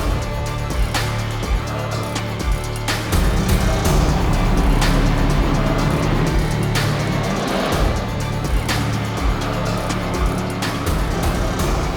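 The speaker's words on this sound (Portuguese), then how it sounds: "Luz vermelha, sobe giro dos motores e a partir de agora é pé pra baixo, velocidade pra cima, corrida 2, já tá valendo" Formula 4 race cars at the start of a race on a circuit, engines screaming at high revs in a dense, loud, continuous roar with sharp bursts as cars pass close.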